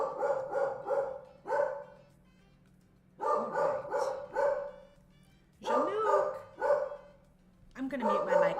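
Jean-Luc the dog barking at someone outside, bursts of sharp, close barks in quick runs of three to five separated by short pauses.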